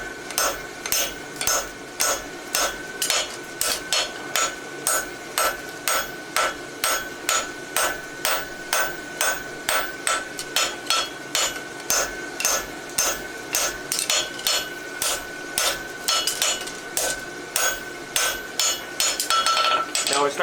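Steady, rhythmic hammer blows on a horseshoe at the anvil, struck with the round side of the hammer during farrier competition practice on barshoes; dozens of sharp ringing strikes at an even pace, close and loud, with no talk.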